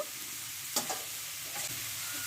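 Mung dal and ash gourd curry being sautéed and stirred in a pan, a steady low sizzle with a couple of brief scraping strokes of the spatula, close and fairly quiet.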